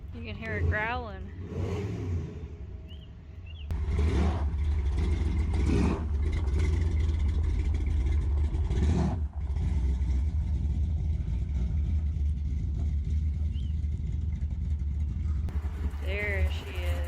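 A car engine growls and revs in a garage setting, a deep rumbling idle swelling into louder revs that hold steady, with people talking at the start and briefly over it.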